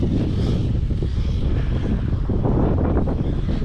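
An Arrma Dirt Rat RC car fitted with an X-Maxx motor drives nearby outdoors, a loud, steady motor whine mixed with rushing wind noise.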